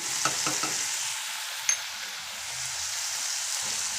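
Broad beans being stirred with salt in a hot pan, giving a steady close sizzle with a few soft scraping strokes near the start and a brief clink partway through; no voices.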